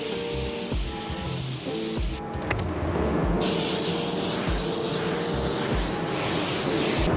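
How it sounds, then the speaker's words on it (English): Continuous close hiss of an automotive spray gun laying base coat blender onto car doors, broken by one brief pause before resuming steadily with no talking. "spray some base coat blender down"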